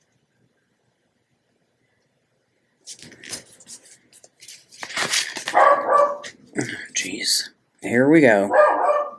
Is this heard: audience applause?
no